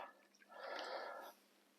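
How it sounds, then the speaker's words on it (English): Water is poured from above over the spikes of a heavy flower frog sitting in a bowl, giving one soft, brief splash lasting under a second, close and fairly quiet. "I'm just going to add some water to this one now, like so, just over the top."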